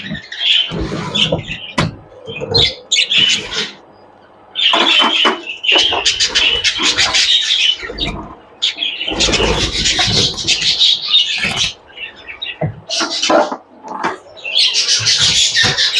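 Caged show birds squawk and chirp in bursts with rustling and scuffling movement as they are pushed across the cage, fairly close, with short quiet gaps between flurries.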